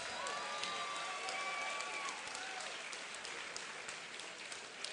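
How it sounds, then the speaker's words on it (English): A crowd applauds both fighters after a three-round bout at a combat sports event in Rockaway, with sustained clapping and some cheering from a large room, fairly distant and even throughout. "what do you say we get a nice round of applause out here for both of these fighters?"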